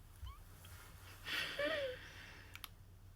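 A cat gives a short, faint meow close by, a brief rising-and-falling cry over quiet room noise, with a soft rustle before it and a couple of small clicks after.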